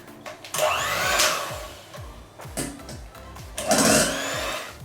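An electric mixer whips egg whites as sugar is added gradually, a loud whirring drone that rises and falls with the beaters' movement, close to the listener.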